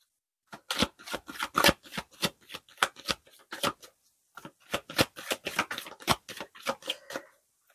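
Tarot cards shuffled and drawn by hand, a rapid run of crisp riffling flicks in two bursts with a short pause between, close and fairly quiet.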